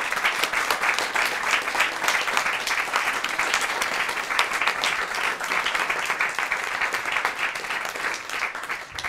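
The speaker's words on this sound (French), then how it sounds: "une nouvelle chaîne qu'on va applaudir très fort" A studio audience at the Kandidator TV show applauds loudly and continuously, a dense, even wash of clapping that holds steady without pause.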